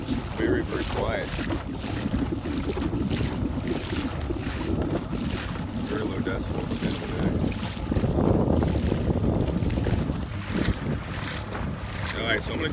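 An Echo 58v battery-powered electric outboard motor drives a Nucanoe Frontier 12 across open water, its very quiet hum steady and close beneath constant wind buffeting and water wash, with no clear talk.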